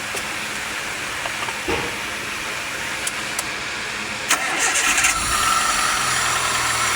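A Suzuki G16 engine, previously refusing to idle and showing a scanner error, is cranked and started in a workshop; a steady loud mechanical drone runs throughout, rising slightly as it catches and settles into running.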